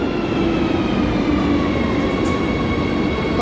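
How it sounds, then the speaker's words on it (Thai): A Madrid metro train pulls into an underground station, a loud steady rumble of rolling wheels with a faint rising whine and hum, filling the space without any talking. "นี่รถไฟขบวนที่เราจะไปนะคะมาแล้วค่ะ"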